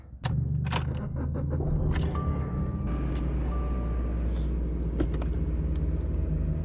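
A car's engine rumbles steadily as it drives up a hill to a rural property, with a few sharp clicks and clunks near the start and no voices.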